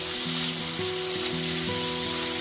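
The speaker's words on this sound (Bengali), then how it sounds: "গ্যাসের ফ্লেমটা লো টু মিডিয়ামে রেখে পেঁয়াজটাকেও নরম করে ভেজে নিচ্ছি।" Chopped onion fries gently in a pan over a low-to-medium gas flame for potol chingri, a soft continuous sizzle with background music.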